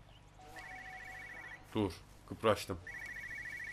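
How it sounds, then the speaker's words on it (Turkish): A telephone ringing in the video game Everybody's Gone to the Rapture, two trilling rings at a moderate level separated by a pause, while someone speaks briefly in between. "Bir telefon çalıyor orada."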